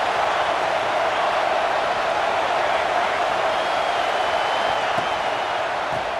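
A home stadium crowd in the EA Sports College Football 26 video game roars as a dense, unbroken wall of cheering, loud and steady throughout with no distinct individual voices.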